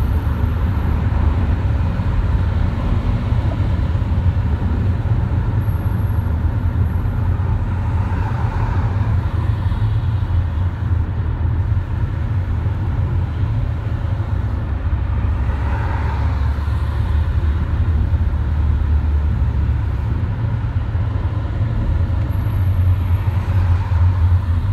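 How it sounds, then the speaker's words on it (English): Dense, steady roar of congested freeway traffic on the 210 eastbound, cars and trucks rumbling continuously with no pauses, fairly loud and close. "Traffic on the 210 eastbound is just like walking to Pasadena."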